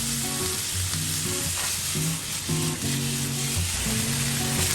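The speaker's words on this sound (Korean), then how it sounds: "달군 팬에 식용유를 두르고 밑간한 소고기를 볶아줍니다." Seasoned beef fries in oil in a preheated pan for borscht, a loud close sizzle that holds steady throughout, with soft music playing underneath and no speech.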